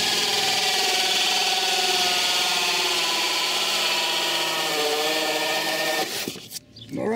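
A power drill bores a hole for a compost toilet exhaust vent, a loud continuous whirring grind for about six seconds that cuts off abruptly into rustling handling noise.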